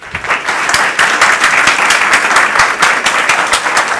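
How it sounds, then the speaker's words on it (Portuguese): A live audience claps after a philosophy café talk on alternative energy, a dense, steady round of applause lasting about four seconds without talk. "Uma salva de palmas."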